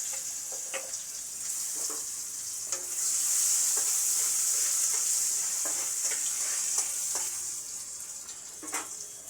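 Garlic sizzles and fries steadily in hot oil tempered with cumin, green cardamom and cinnamon, a bright continuous crackle with occasional stirring clicks, close and alone.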